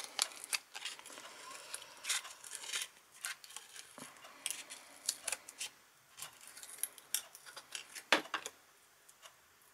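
Scissors snip Action-brand paper for cabochon jewellery in a series of close, crisp, irregular cuts with small rustles and clicks between them.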